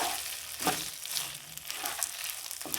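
Rice grains frying in a pan over medium heat for pulao, a soft steady hiss and crackle with occasional light scraping as the grains are moved.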